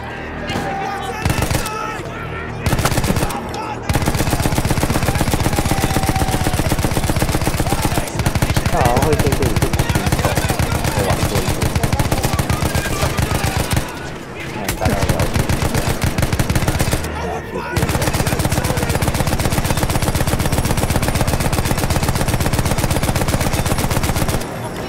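Machine gun fire in Battlefield 1, long loud sustained bursts of rapid shots broken by a few brief pauses, with explosions mixed in and people talking over the gunfire.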